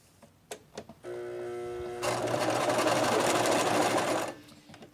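A sewing machine stitches along a fabric edge, starting with a steady whirr that suddenly gets louder and faster into a dense, rapid, mechanical rattle for a few seconds before stopping abruptly, with no talk over it.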